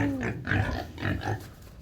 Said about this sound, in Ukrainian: Оце здорові поросята.